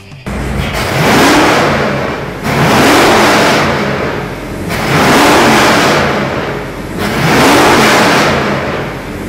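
A loud hot rod V8 engine with coil-per-cylinder ignition revs up and settles four times in a steady rhythm, each blip roaring with a deep rumbling tone, close by.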